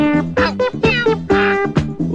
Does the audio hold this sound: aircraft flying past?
no